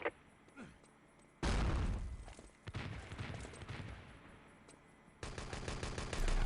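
Bursts of automatic gunfire and explosive blasts from an online Enemy Territory competitive match, loud rapid volleys broken by short pauses and heavy booms, with no speech.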